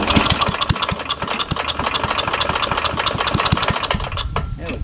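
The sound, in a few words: Craftsman Tecumseh push lawnmower engine sputtering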